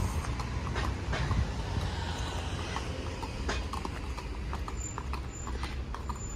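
Horse hooves clop steadily at a walking pace on a hard main road in fog, moderately close, over a constant low outdoor rumble.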